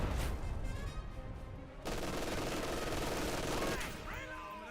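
An Axis artillery barrage in the war strategy game Company of Heroes 2: a continuous rattling fusillade of shots and impacts, steady and moderately loud, easing off near the end.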